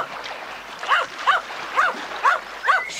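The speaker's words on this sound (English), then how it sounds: "Timmy began to bark excitedly." A dog yips and barks excitedly in a quick run of five short, evenly spaced calls at moderate distance, over a faint watery background hiss.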